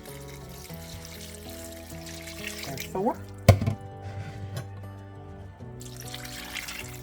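Water is poured from a cup into a crockpot holding a Cajun one-pot dish with bay leaves, a soft splashing trickle mid-way under steady background music, with a brief spoken count.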